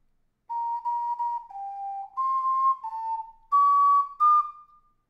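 An ocarina plays the closing phrase of the Gravity Falls theme, seven clear, pure sustained notes stepping up and down, close and alone in silence.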